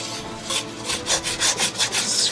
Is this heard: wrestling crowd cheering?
no